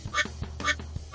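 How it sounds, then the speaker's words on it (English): Cartoon duck quacks from a Bubble Guppies and Paw Patrol kids' water park game, two bright quacks in quick succession over a soft game background, with a third starting at the end. "Another ducky!"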